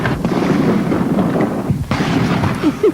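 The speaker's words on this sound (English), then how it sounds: "Propane cannons created loud booms heard across the campus beginning Monday evening in efforts to scare off birds" Propane bird-scaring cannons booming across a college campus near a library, heard as a dense, loud outdoor rumble with a sharp burst partway through, no speech.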